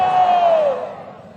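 A large crowd at a Rohtak marathon launch event shouts a loud, unified 'Bharat Mata ki Jai' chant that swells and then trails away.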